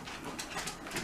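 A dog whimpers and whines indoors, waiting to be let in. The short, faint cries sit over a hissy background.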